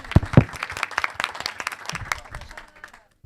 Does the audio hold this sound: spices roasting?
no